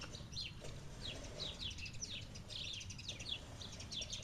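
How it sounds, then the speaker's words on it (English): A small pet bird gives a quick string of high, thin cheeping chirps, repeated in a loose rhythm, faint and close over a soft room hum. "Look, he's saying cheep, cheep, cheep"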